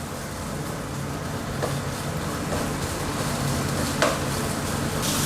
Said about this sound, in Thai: เบคอนมาเจียวก่อนนะครับ